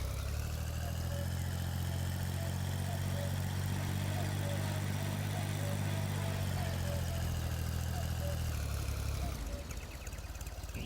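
A farm vehicle engine in Farming Simulator 19 runs steadily with a low, droning hum and rumble, constant and close, shifting slightly near the end.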